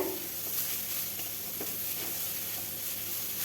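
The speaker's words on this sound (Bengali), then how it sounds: "দেখুন শাকটা এরকম ভাজা হয়েছে" Water spinach (kalmi shak) sizzles steadily in a pan as it fries, a continuous soft crackling hiss at close range with no talking.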